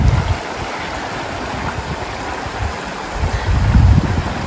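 Hiker wading through a warm stream at a river crossing, with continuous rushing and splashing water close by, surging louder toward the end, and no talking.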